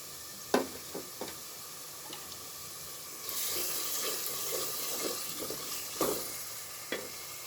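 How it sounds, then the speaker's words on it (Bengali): A prepared spice paste fries together with ginger and garlic in a pan for a potato and layer-chicken curry, a soft, fairly quiet sizzle with occasional sharp clinks of a spoon stirring, no voices. "মশলাটাও সময় নিয়ে ভাজতে হবে"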